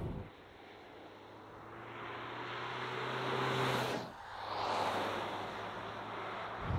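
A diesel engine in a 2024 Kia Sportage pulls hard under acceleration in sport mode on a track, with a steady low drone that climbs in pitch, a brief dip midway, then continues building under road and wind noise.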